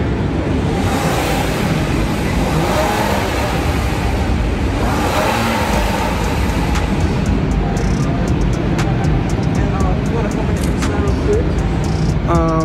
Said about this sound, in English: So yeah, let's hear the motor real quick.